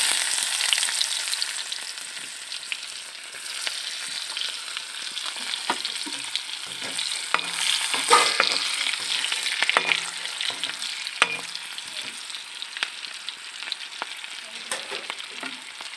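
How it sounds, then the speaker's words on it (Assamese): Onions fry in a fish kadai with a continuous crackling sizzle and scattered sharp pops and stirring scrapes, close and steady with no voices. "মাছৰ কেৰাহীতে মই ইয়াত দি দিছোঁ পিঁয়াজখিনি"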